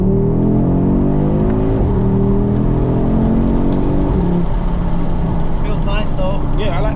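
Audi RS6 C8 accelerating hard, a loud engine note sweeping upward through rising harmonics for several seconds, then changing gear and continuing to pull, with voices talking over the noise.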